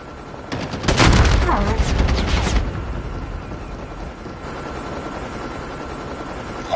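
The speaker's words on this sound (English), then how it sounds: "Hostile stealth chopper inbound." Stealth chopper in the Call of Duty Mobile video game during a 10v10 match: a loud rotor roar with dense gunfire swells in the first seconds, then settles into a steady, fainter mechanical drone.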